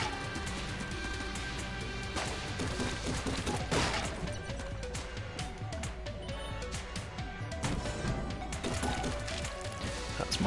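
Rapid gunfire in the video game Enter the Gungeon crackles over a game soundtrack, with dense bursts of sharp shots and impacts running throughout and no talking.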